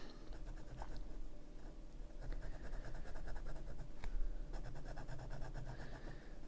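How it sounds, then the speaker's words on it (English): Close pen scratching on paper in quick, repeated strokes, steady and fairly quiet, with no voices. "Does make quite a satisfying sound, the pen on the paper."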